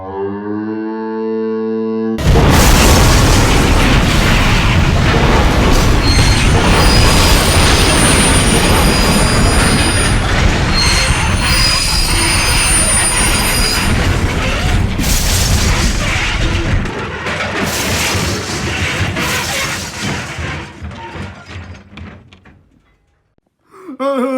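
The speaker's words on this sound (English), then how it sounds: "I'm gonna ride in a purple train." A loud, continuous rumble of a purple Crossrail train rolling along rails in London, with clanks and a high metallic squeal, fading toward the end.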